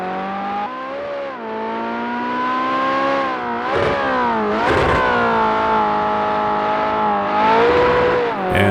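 A track car in the Project CARS 2 racing game revs hard and continuously, its engine pitch climbing and dropping through gear changes with brief tire-scrubbing moments, loud and close throughout.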